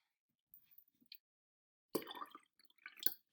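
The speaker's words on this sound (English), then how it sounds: "we're going to add some water to our solution." Water is poured and dripped into a chemical solution for an iodine clock reaction, giving a few faint drips followed by a brief louder splash and trickle in a quiet room.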